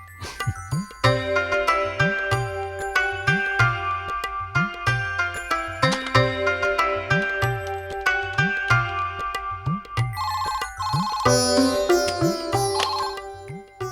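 A telephone rings repeatedly in a domestic television drama scene, each ring a bright chiming burst in a steady rhythm, loud and close, with a higher electronic tone near the end and no talk over it.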